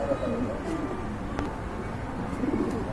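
Pigeons of mixed local and foreign breeds at a pigeon sale coo in soft, low rolling phrases close by, continuing steadily over a dense background murmur.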